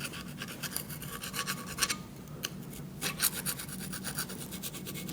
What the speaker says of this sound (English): I'm going to start with a screwdriver, a flathead screwdriver, just to get in the grooves.